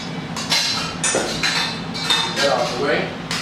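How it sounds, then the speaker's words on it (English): Red velvet batter being stirred in a bowl with a utensil, giving repeated scraping clinks against the bowl at a steady, uneven rhythm, close and moderately loud with faint background noise. "I just want to come in here and get it a stir"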